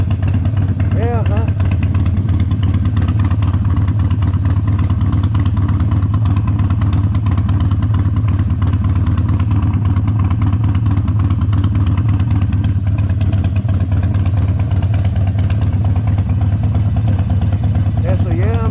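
A Harley-Davidson motorcycle idles after carburetor work, holding a loud, steady, throbbing low rumble from start to finish, close by and unchanging.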